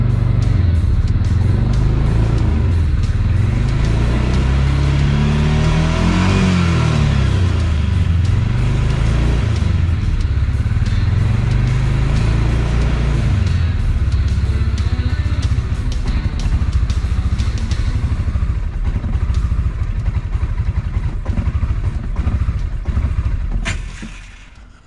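Close, loud running of a Massimo T-Boss side-by-side engine with an idle control fault, its rough note sagging and surging as it bogs below 2,000 RPM, heard alone for about 25 seconds before cutting off.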